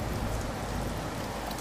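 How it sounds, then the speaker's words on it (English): Steady rain falls on a trip to Lake Owen in the Northwoods, a dense, even hiss of drops close by with no voices. "Rain."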